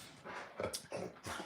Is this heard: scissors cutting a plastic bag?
no